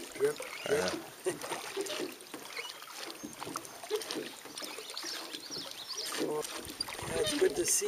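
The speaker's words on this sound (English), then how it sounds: "You can listen to the soothing sounds of the oars." Oars rowing a boat on Wood Lake in the Boundary Waters: rhythmic wooden creaks and soft water splashes and trickles repeat at a steady stroke pace, close by under quiet open air.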